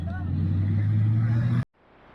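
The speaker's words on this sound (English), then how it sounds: "that's one car doing a burnout on another car after a wreck" A short-track race car does a burnout after a wreck, a loud steady engine roar with tire howl that cuts off abruptly, leaving quiet background noise.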